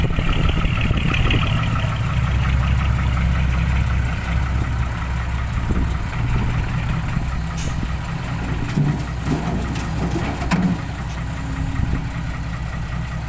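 A Kobelco excavator's diesel engine runs steadily at a dirt pit, a loud, continuous low rumble with a slight knocking texture throughout, with no talk over it.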